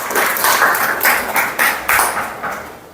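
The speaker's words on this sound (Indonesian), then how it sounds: "aplaus untuk Intan" An audience claps for Intan at an educational session, a short, fairly loud burst of applause in uneven rhythmic waves that fades toward the end.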